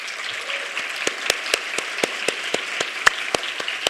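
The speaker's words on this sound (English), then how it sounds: "a round of applause" An audience at a presentation on CubeSat deployment from the ISS applauds steadily, with sharp, fairly evenly spaced claps standing out over a softer wash of clapping throughout.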